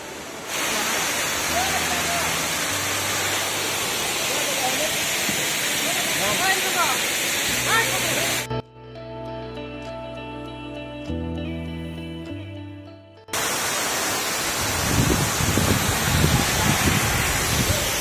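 A waterfall on a holiday ride near Golaghat rushes as loud, steady, dense roaring water, broken midway by a few seconds of tonal music before the roar returns.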